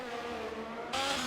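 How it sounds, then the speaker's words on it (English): A racing car engine in a Formula One style racing video game on the Monaco circuit drones steadily in the background and swells louder near the end, with no talking. "Car you can hear in the background is actually Grezza's car"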